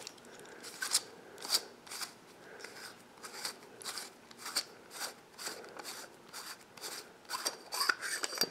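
A lightsaber hilt's bottom section is unscrewed, giving a close, quiet series of short scraping metal-thread clicks and rasps in an irregular rhythm, with no voices.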